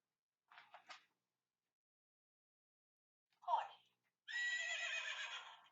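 A horse neigh sound effect: a couple of short, soft bursts, a brief pause, a snort-like sound, then a long, shrill whinny that shakes as it fades out.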